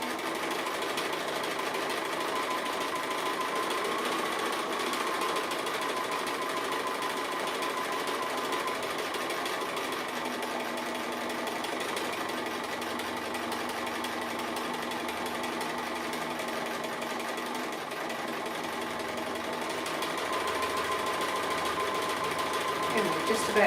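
A domestic sewing machine runs steadily as it stitches an appliqué scallop near the edge of fabric, a continuous close motor whir with a fine rapid needle rhythm lasting throughout, with no pauses.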